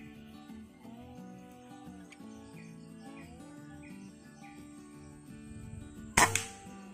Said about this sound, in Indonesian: Tembakan kedua.